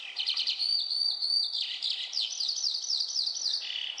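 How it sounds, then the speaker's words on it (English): Skylark calling over pasture on a peninsula, a continuous high, rapid warbling stream of chirps and trills, clear and fairly close with no other sounds. "round Soldiers' Monument is a great place to hear the skylark calling."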